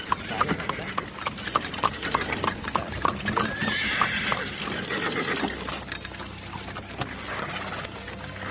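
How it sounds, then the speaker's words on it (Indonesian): Horse-drawn cart rolling over a rocky road, with steady clip-clopping hooves and a horse whinnying partway through, voices and background sound layered beneath. "Gerobak kuda meluncur di atas jalanan berbatu."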